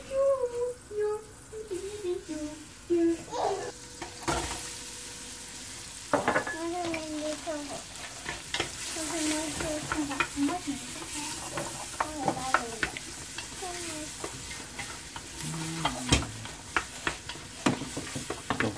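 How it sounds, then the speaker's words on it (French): Onions and garlic fry in butter in a large pot, a steady sizzle broken by frequent scraping and knocking of a spoon stirring against the pot, with squeaky scrapes throughout. "Donc faire revenir les oignons, un peu l'ail."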